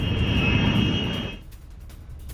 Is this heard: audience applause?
no